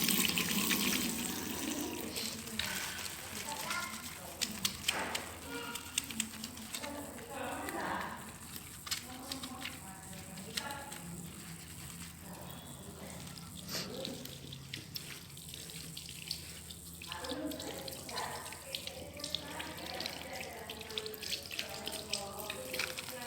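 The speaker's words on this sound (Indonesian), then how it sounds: "Cuci tangan 6 langkah di bawah air mengalir." Tap water runs steadily while hands are washed with soap in six steps, a continuous splashing hiss with small irregular splashes and clicks, and a voice talks over it throughout.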